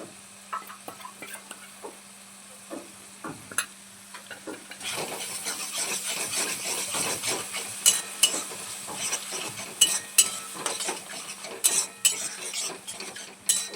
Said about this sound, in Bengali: মশলাটা একটু কষিয়ে নেব।